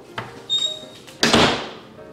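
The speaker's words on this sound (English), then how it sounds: "But then the strange old woman closed the door." A door swings shut in a pantry with a loud slam, preceded by a lighter knock and creak, the impact's noise decaying over about a second.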